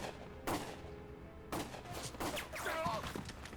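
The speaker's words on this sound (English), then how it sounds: "Gunfire!" Gunfire in the video game Valkyria Chronicles, a few sharp bursts separated by pauses, fairly faint with a brief voice in the mix.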